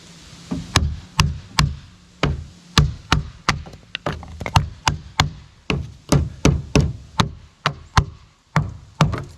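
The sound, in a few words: hammer and chisel knocking out a log notch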